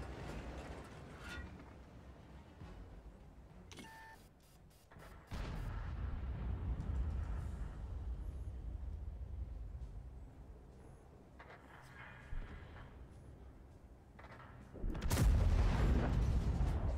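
Video game gunfire: sharp, booming shots stand out over a constant rumbling game soundscape, with one brief blast early on and a louder, heavier burst near the end.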